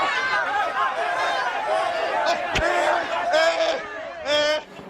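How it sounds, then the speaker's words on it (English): A crowd of dozens of people shouting and yelling together as they chase someone, loud and close, with rising bursts of cries near the end. "Dozens of people started chasing him."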